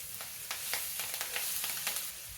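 Peanuts, cashews, ginger, garlic and green chilli pieces fry in oil for masala bread upma, making a bright, close sizzle with quick, rhythmic spatula taps and scrapes against the pan.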